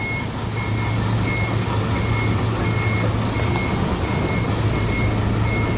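A Kramat Djati bus turning around at a ticket office sounds its reversing alarm, a steady series of evenly spaced electronic beeps over a loud diesel engine idle.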